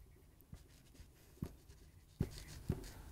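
Pen writing by hand on paper while filling in an accounting ledger entry, heard as a few soft, brief scratching strokes spaced across a quiet room, with no talking.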